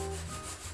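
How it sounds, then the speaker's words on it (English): Sanding pad rubbed along a guitar fingerboard on a semi-hollowbody Ibanez AM730, a soft, close, continuous scraping rub, quiet and brief with no voices. "So now I'm going to go this way with the sanding pad to remove those"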